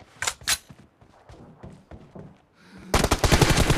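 Video game gunfire in BGMI, in a team deathmatch: a few sharp shots early on, then scattered thumps and movement, and finally a loud sustained burst of rapid automatic fire.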